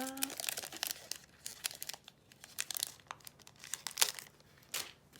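A package of dinosaur cream memo paper pads is torn and crinkled open close up, with rapid bursts of crackling plastic and paper rustles coming in irregular clusters over several seconds.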